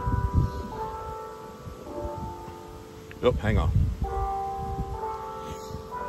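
A church bell rings outdoors with sustained, layered tones that swell and fade in several strokes, while someone speaks briefly partway through.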